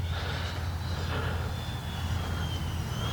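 An FMS Rafale 80mm RC jet plane passes overhead with a steady whining drone and a thin rising tone, holding an even level throughout before growing slightly louder at the very end.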